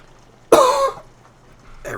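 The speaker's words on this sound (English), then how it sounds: "Every time I cough, it hurts so much." A single sharp, close cough from a sick person bursts out and fades within half a second, with the start of another cough at the very end.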